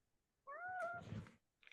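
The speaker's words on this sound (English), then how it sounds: "He's meowing." A pet cat in a dim living room gives a single drawn-out meow, close and fairly soft, followed by a brief faint second sound and near silence.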